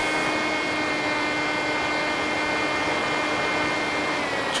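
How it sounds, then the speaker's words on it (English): A hand-launched autonomous model aircraft's electric motor runs as a steady, loud, high-pitched whine with a constant drone throughout. "Just launched the aircraft by hand, disengaged the auto launch sequence from the Autonomous"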